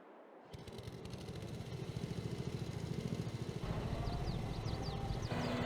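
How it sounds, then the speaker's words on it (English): In Farming Simulator 22, a small Yard Machine tiller engine starts up and runs with a fast, regular putter that grows steadier and louder, a close mechanical chug with brief higher chirps near the end and no talk. "It's literally a yard machine tiller."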